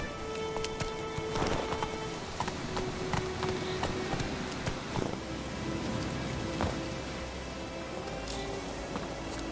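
Hooves of the horse Roach in Witcher 3 clip-clopping steadily over ground, a continuous run of close, crisp hoof strikes set against a rain-like hiss of ambient noise, with no talking.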